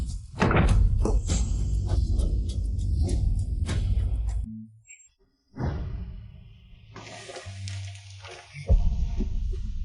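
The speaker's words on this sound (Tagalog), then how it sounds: "Buwagin ang pinto." Heavy thuds and bangs as a door is forced and broken down, loud repeated impacts with a whooshing crash, a brief near-silent pause, then more rough knocking and scraping.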